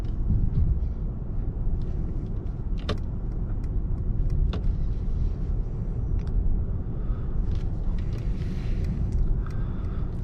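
A 2022 Mercedes-Maybach S580 on the move, heard from inside as a steady low road rumble and smooth hum, with a few faint clicks and small rattles in the cabin.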